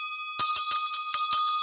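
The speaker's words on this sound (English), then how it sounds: "I'm going to ring the magic bell." A small bell is rung in a shop, a bright metallic ding repeated several times in an uneven rhythm, loud and close, with no voices over it.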